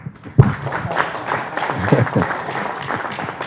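Audience applause at a workshop on the prohibition of chemical weapons, a burst of clapping that swells near the start and carries steadily to the end with voices faintly mixed in.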